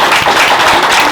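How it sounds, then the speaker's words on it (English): An audience at a young authors' book signing applauds, a brief dense burst of many hands clapping close by, with no talk. "I would like to give a round of applause to the young authors"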